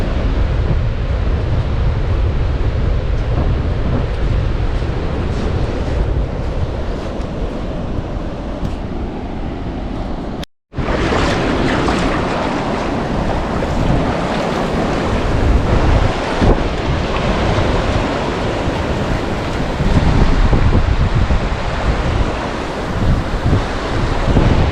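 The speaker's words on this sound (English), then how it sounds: "waves aren't too big right here" Loud, continuous roar of ocean surf and wind buffeting the microphone during a tropical storm on the coast at Toco, Trinidad, with a brief dropout partway through before the crashing waves resume.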